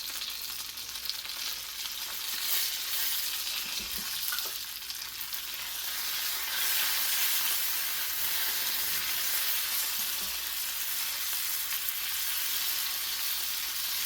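Pheasant back mushrooms and onions frying in a pan give a steady, bright sizzle throughout, with occasional soft knocks of a utensil stirring.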